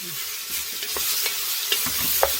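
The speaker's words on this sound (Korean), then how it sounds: "이렇게 해서 물을 볶을 거예요." Stir-frying in a multipurpose wok-style pot: a steady, close sizzle with scattered scraping and stirring clicks, no voices.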